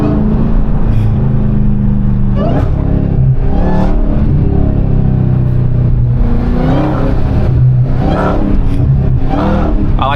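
A 717 hp Hellcat's engine revs hard in a loud, steady drone that swells and falls through several throttle blips over ten seconds, heard close from inside the car.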